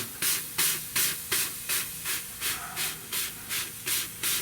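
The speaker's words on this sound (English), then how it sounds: "I want to spray this down and cool this down." Rhythmic bursts of hissing, about a dozen evenly spaced pulses, as water is sprayed in pulses onto hot metal on a 1970 Buick Wildcat frame, each hissing briefly before fading.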